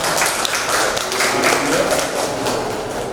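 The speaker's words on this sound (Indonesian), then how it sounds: "Tepuk tangan." Audience applause at a teacher-training session in Cirebon, Indonesia, steady and fairly close, continuing throughout a short stretch.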